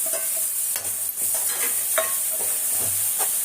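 Ground coconut-onion masala hits a hot pan for a bitter gourd gravy, giving a steady sizzle broken by repeated scraping stirs, close and clear with no talking.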